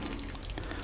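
Water sprinkling over freshly sown small seeds in compost, a dense, steady patter of droplets, close and continuous for under a second.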